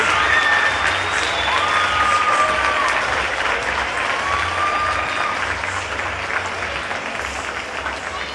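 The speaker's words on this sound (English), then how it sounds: "on your feet, please, for one more round of applause for the seniors" Sustained crowd applause for senior athletes in a high school gym at an Evanston basketball game, steady and dense throughout, easing slightly toward the end.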